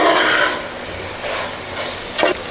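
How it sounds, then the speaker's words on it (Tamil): Fried paneer stirred gently in a pan for paneer peas pulao, soft scraping strokes with light sizzling, close and fairly loud, ending in a brief sharper scrape. "இந்த பன்னீர் போட்டு லைட்டாக மெதுவாக வந்து மிக்ஸ் பண்ணி விடலாங்க"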